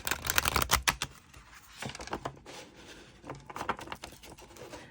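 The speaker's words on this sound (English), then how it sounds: "If I riffle shuffle, I prefer to do it this way." A close, crisp riffle shuffle of an oracle card deck: a quick fluttering burst of card snaps, followed by softer scattered riffles and taps.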